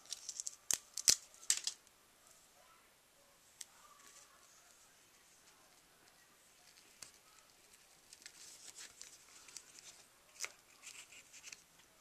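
Scissors snip paper while a Sweet Shop Post-it note holder is being made, giving a quick burst of close, crisp cuts early on, then scattered, fainter snips and paper rustles spread across a quiet room.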